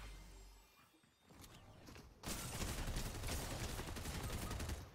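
Video game gunfire crackles in sustained rapid bursts, quieter at first, then a loud continuous fusillade of automatic shots taking over for the rest of the clip.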